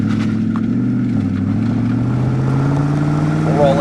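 A 1999 Pontiac Firehawk with a 5.7-liter LS1 V8 and automatic transmission pulls hard under throttle, its engine drone steady and loud, rising in pitch with a brief shift dip partway through, heard from inside the cabin without talk.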